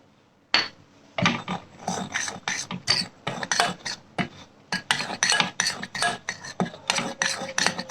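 Batter with baking soda and baking powder is mixed in a bowl, rhythmic clinking and scraping strokes of a utensil against the sides, close and repeated in quick bursts with no talk.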